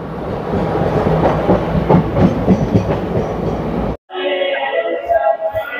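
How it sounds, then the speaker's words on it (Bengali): A passenger train runs near Mirzapur station on a foggy, cold winter day, its rumble and rattling wheels loud and steady until a brief drop, then a thinner, tonal running sound. "ট্রেন এসে পৌঁছেছে মির্জাপুরে"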